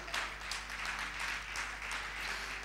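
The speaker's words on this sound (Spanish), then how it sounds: "Fuerte, dele fuerte el aplauso al Señor" Church congregation applauding for the Lord during a Spanish-language sermon, a steady wash of many hands clapping continuously throughout, fairly loud and even with a low hum beneath.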